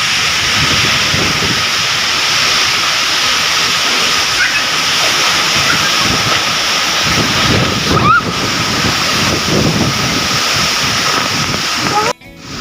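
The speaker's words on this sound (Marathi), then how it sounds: "हे बघा बर्फ पडतोय बघू शकता खूप मोठे मोठे गोळे पडतात" Large hailstones pour down in a heavy hailstorm, a dense, loud, continuous roar of pelting impacts mixed with wind noise close to the microphone, with a brief disturbance near the end.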